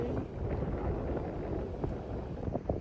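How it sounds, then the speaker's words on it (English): Strong breeze buffets the microphone on a hiking trail, a steady rumbling gust roar filling the whole stretch with no speech. "It was breezy, like really breezy."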